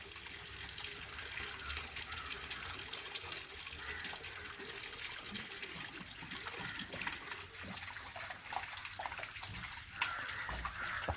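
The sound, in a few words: water flowing out of Jalamithra water filter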